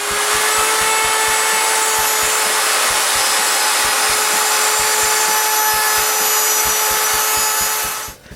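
A wood router cuts the outside of a pattern on a piece of wood, guided by a bushing, with a steady loud high whine and cutting noise that runs unbroken for about eight seconds before stopping.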